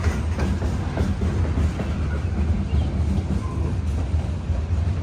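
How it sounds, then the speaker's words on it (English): A big freight train rolls past at a railroad overlook in Cassandra, a steady loud rumble of heavy cars with faint clickety-clack, continuous through the whole stretch and no voices. "Man, that's a big train."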